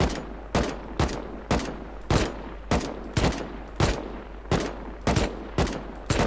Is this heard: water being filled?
no